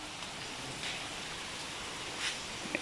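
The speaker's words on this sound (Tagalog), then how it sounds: "Tapos naririnig mo yung patak ng ulan." Raindrops fall outside, a soft continuous hiss with faint scattered patters and a few light clicks, quiet and without talk.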